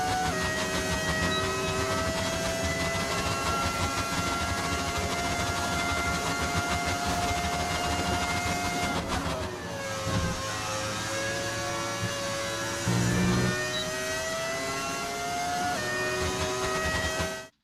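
A hybrid Formula 1 race car engine in the F1 25 video game, tuned to sound like a V10, gives a sustained, fairly quiet high-pitched whine with pitch shifts near the ten- and thirteen-second marks.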